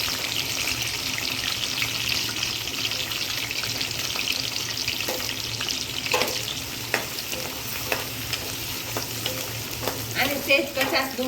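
Peas and mixed vegetables with fried chillies sauté in a pan for a mixed veg sabzi: a steady close sizzle broken by the clinks and scrapes of stirring, with no talking.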